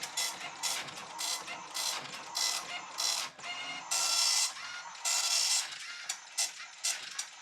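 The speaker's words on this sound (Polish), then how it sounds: "Po prostu od razu wali na drukarkę." A Commodore MPS 1230 dot-matrix printer driven by an Atari computer prints in bursts of shrill, buzzing head passes separated by short pauses, close and loud.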